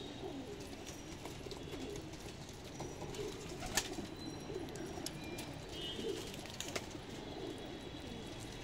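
Pigeons in a rooftop wrestling-pigeon flock coo softly and steadily, with occasional faint chirps and wing flutters over a constant low background murmur.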